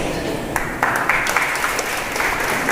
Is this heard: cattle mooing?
no